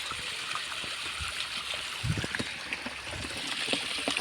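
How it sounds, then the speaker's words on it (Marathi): Water pours out from a dam in a steady, low rushing and trickling wash, fairly faint and continuous, with no talking. "हे पाणी वाहतोय इथून धरणाचा"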